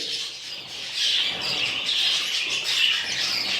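Budgerigars in a breeding cage chirp and twitter in a steady, dense chorus, close and fairly loud throughout.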